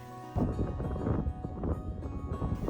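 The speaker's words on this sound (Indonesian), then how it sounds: "diiringi suara hembusan angin yang sangat kencang" Strong wind gusting across a misty mountain plateau meadow, roaring steadily and loudly close to the mic with a rough buffeting texture after a brief quiet start.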